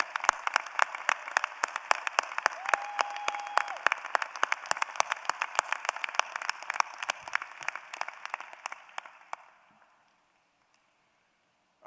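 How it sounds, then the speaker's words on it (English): A law school commencement audience gives a sustained round of applause, many hands clapping in a steady dense patter that fades out near the end, leaving near silence. "And join me in a round of applause."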